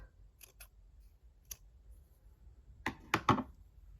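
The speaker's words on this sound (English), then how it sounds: "And then I just cut these 2 off." Scissors trim the loose yarn ends off a crocheted wrapghan in a quiet room. A few faint ticks lead to two or three sharp, close snips near the end.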